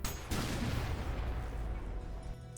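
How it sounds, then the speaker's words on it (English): A core-eject nuke explosion from the game Ultrakill, a sudden loud, broad boom that starts with a sharp crack and rolls into a long rumbling, crackling blast that fades slowly over about two seconds. "you can simply dash through the explosion"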